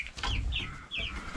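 Frightened chickens in a coop cluck and squawk in a few short, nasal calls, close by and fairly quiet, over a low rumbling background.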